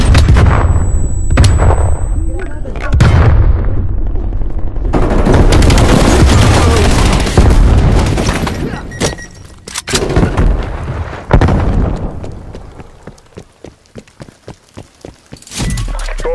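Frag grenade explosions and gunfire in Call of Duty: Black Ops Cold War team deathmatch, loud booming blasts with bursts of rapid automatic fire and scattered single shots, intense and close throughout.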